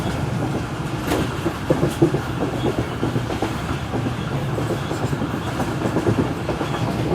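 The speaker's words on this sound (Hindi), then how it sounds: "बड़े प्यारे साउंड के साथ ट्रेन हमारे इस वक्त दौड़ रही है टंडो मस्ती खान और खैरपुर रेलवे स्टेशन के दरमियान" Steady rumble and rhythmic clickety-clack of wheels on rails from inside the Karakoram Express running in a new rake between Tando Masti Khan and Khairpur, continuous throughout with scattered rattles.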